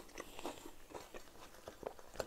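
Crispy homemade mini pizza with a crunchy base and soft topping is bitten and chewed close to the mic, giving a run of short, sharp crunches repeating at an irregular pace over about two seconds, with no talking.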